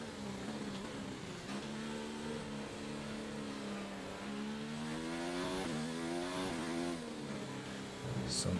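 A Formula 1 car engine racing at Spa in F1 2019, a steady high-pitched whine rising and falling with gear changes, held at moderate distance without speech.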